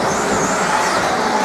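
Several 1/10 scale off-road RC cars race on a dirt track with a continuous high electric whine and rushing noise, loud and close throughout.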